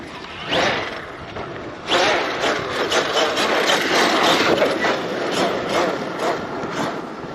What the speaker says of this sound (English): Gears sound a little rough.